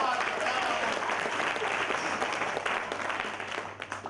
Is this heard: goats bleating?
no